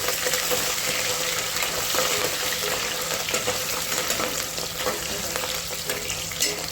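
Chicken fat frying in hot oil in a pan, a steady dense sizzle that holds close and continuous throughout with no talking.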